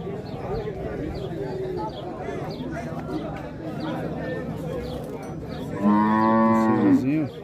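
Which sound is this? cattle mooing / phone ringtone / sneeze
cattle mooing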